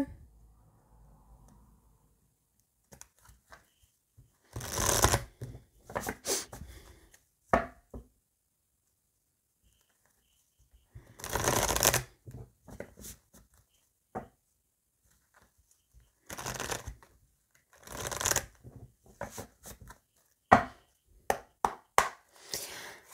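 Tarot and oracle cards are shuffled and cut in short bursts of riffling and slapping, separated by quiet pauses, close but soft overall.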